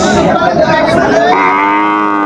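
A Sahiwal bull or calf at a rural cattle market gives one loud, close moo that rises and holds for about two seconds.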